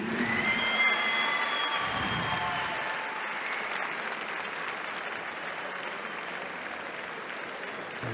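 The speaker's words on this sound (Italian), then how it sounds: "vorrei un grande applauso per lo sfortunato Alessio Ancinelli." Applause from an indoor crowd at a 2022 Fighting Spirit fight event, as the loser's misfortune is acknowledged before the verdict; steady clapping fills the whole stretch, loud at first and easing slightly, with no talk over it.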